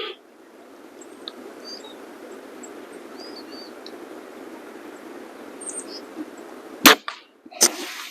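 A Weihrauch HW30 .22 caliber air rifle fires a single sharp crack near the end, followed by a second brief snap, after a stretch of quiet outdoor ambience with faint distant birdsong.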